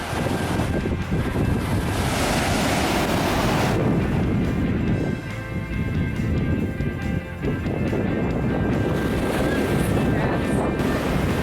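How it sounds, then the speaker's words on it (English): Surf rolls onto the beach at Scarborough, a continuous loud rush of breaking waves mixed with heavy wind buffeting the microphone. "Here's the beach at Scarborough."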